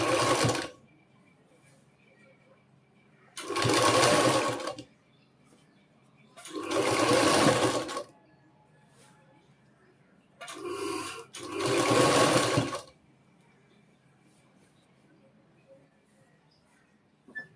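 Domestic sewing machine stitching lace onto trousers, heard in four separate runs of steady mechanical whirring, one broken by a brief pause, with quiet room tone between bursts and no talk.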